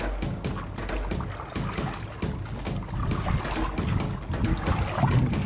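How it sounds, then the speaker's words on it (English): A big river wave strikes a boat on a rough river, producing repeated loud, close splashes and rushing water surges in an irregular rhythm, with no talking. "Next big wave coming."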